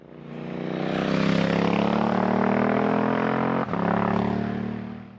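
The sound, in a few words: Suzuki V-Strom 800 DE motorcycle with Yoshimura RS12 ADV slip-on exhaust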